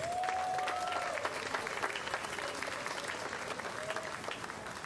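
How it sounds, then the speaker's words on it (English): Crowd at an outdoor political rally on the Fraser Coast applauding a speaker, steady loud clapping throughout with a few cheers and a voice briefly calling over it. "Big round of applause for George, everybody."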